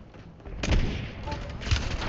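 Sniper gunshot in the video game Warzone, a deep booming report with a rolling tail, followed by a second heavy blast about a second later, heard over steady game ambience and faint voices.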